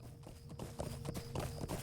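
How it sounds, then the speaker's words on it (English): Horse hooves clip-clop at a steady riding pace in the online game Lord of the Rings Online, a rhythmic run of close, moderately loud hoofbeats over faint background music. "So we're just gonna ride a horse, ride Old Trustling Bud there and back again"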